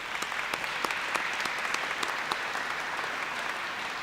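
A crowd of attendees at an aquatic center dedication and ribbon cutting claps for the board members, a dense burst of applause that holds steady throughout.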